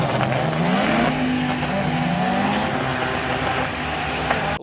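A twin engine drag car launches off the line with a loud, rising engine roar and tire squeal that holds steady before easing slightly, close and alone.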